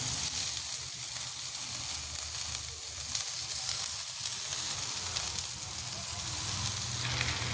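Cooked rice with spring onions fries in a pan, a steady close sizzle and hiss running throughout without a pause, fairly quiet and with no voices.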